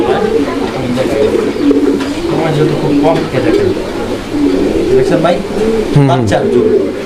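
A fancy pigeon coos in repeated throaty rolling calls, close and loud, while someone talks over it.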